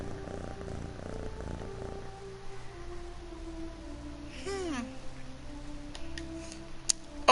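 A cat purrs in the PS4 game Echoes of the Fey, a soft steady rumble under game music, then a brief rising meow-like call near the middle and a few faint clicks toward the end.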